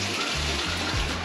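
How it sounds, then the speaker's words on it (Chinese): Water pours and runs steadily at an outdoor cooking spot in the Philippines, a continuous close wash with low rumbling underneath and no voices. "他那边好像还在冲水"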